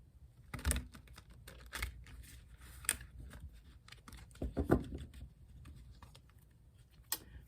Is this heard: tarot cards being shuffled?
yes